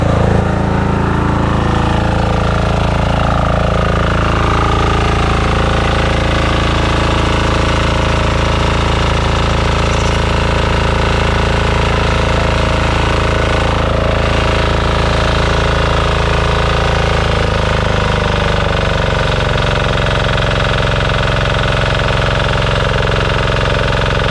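A loud, steady motorcycle trike engine runs continuously up close, with a rough, knocking idle and a slight shift in pitch near the end, with no voices.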